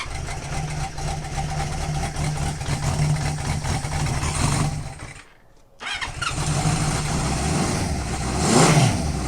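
A 1970 Honda CB500 motorcycle engine idles with a steady close putter, dips briefly as if nearly stalling, then catches again and swells with a short rev near the end.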